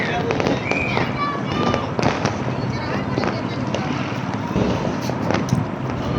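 Rapid crackling Diwali firecracker bursts pop continuously in the distance and nearby, with people talking underneath the outdoor commotion.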